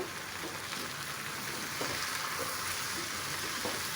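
Ivy gourd pieces frying in a pan while being stirred, a steady close sizzle with soft scraping through the whole stretch, no voices.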